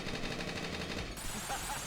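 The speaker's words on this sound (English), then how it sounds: "An icicle cannon goes really far." Icicle cannon attack in the game Lost Dimension, a rapid rattling burst of crackling impacts like automatic gunfire that runs loud and continuous through the whole short moment, with no voices.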